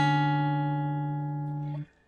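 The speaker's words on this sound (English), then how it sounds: "Let's play a D octave. Major 7th." A guitar sounds a D octave major seventh interval, the two notes ringing together steadily and clearly for almost two seconds before being damped to silence; no talking.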